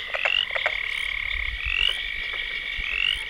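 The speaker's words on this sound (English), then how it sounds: "ponds like this one, Carolina Bay wetlands, fill with the sounds of frogs" Frogs calling in a Carolina Bay wetland pond, a chorus of repeated rising trilled croaks that rings out clearly and steadily with no talk.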